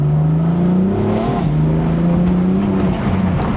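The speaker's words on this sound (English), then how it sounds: "So let's go ahead and hop in this thing, get it started up." A BMW M4 with the S55 engine and stock exhaust starts up and settles into a steady, close, droning idle with a low rumbling tone that wavers slightly, no voices over it.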